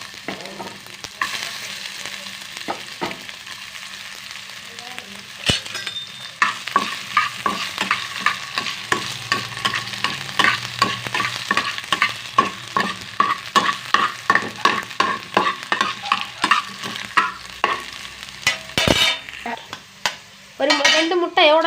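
Carrot and potato frying in a pan for egg rice, sizzling steadily while a spoon scrapes and stirs in a quick, repetitive rhythm close by.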